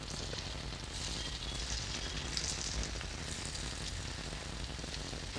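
Rava balls deep-frying in hot oil give off a steady, quiet sizzle with fine crackling bubbles. The sound holds evenly throughout, with no talking.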